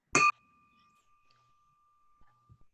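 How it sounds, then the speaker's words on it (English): A single bell is struck once during a meeting for a food-waste and hunger-relief group, giving a sharp ding whose clear tone rings out and slowly fades, followed by faint small noises. "So I would just like to ring the bell."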